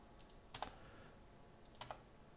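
Typing on a computer keyboard. Two small bursts of key clicks, close and fairly quiet, sit over a low background hiss with no talking.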